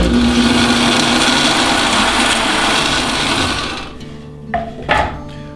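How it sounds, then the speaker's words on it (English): A 60-year-old bandsaw runs with a loud, steady mechanical whir that lasts several seconds, then winds down and falls quiet, followed by a couple of short knocks. "we're gonna see what happens with the bandsaw"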